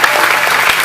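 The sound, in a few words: audience clapping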